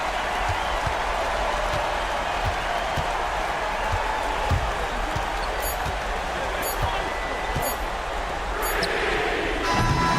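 A steady roar from the home crowd in a basketball video game fills the arena, with ball bounces thudding at regular intervals and a commentator talking over the noise.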